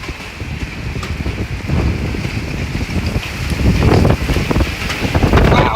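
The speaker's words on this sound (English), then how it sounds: "Big RFD wind." Strong rear-flank downdraft wind from a plains thunderstorm roars steadily and loudly, buffeting the microphone with rising gusts.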